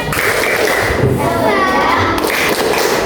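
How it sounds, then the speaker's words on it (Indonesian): Schoolchildren in an elementary classroom perform a rhythmic spirit clap, steady hand claps and thumps carrying loudly over a noisy room with some children's voices mixed in. "Coba dong tepuk tangan dulu kayak semangat amat sih. Tepuk semangat."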